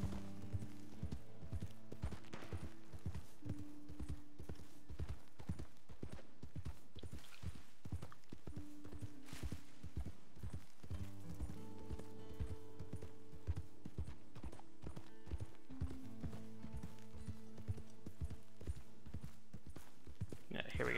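Horse hooves clip-clop in a steady trotting rhythm throughout in the Red Dead Redemption 2 video game, with someone talking over the hoofbeats.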